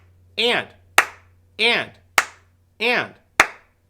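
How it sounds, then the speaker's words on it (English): Three sharp hand claps keep a steady rhythm, each following a short spoken syllable, in a quiet room close to the listener. "So if I were clapping instead of strumming, I would sound like this."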